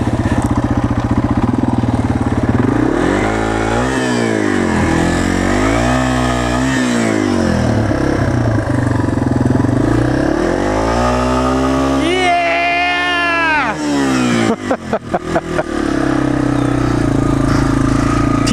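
A Yamaha TW200 motorcycle does burnouts, its engine revving up and down in repeated loud swells with a high rising whine, then sputtering and popping before settling into a rough idle, recorded up close.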